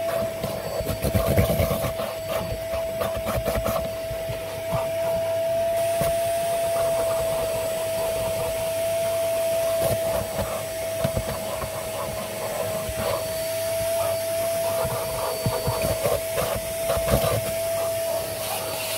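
A vacuum cleaner runs steadily through a car interior cleaning, a loud continuous whine with a fixed tone, broken by bumps and scraping as the nozzle moves over seats and plastic trim.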